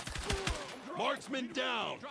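Sharp bursts of gunfire from Battlefield 6 crack out in quick succession, mixed with game sound effects and a voice talking over them.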